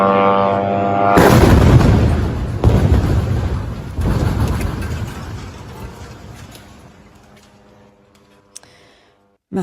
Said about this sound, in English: this video of the moment the building exploded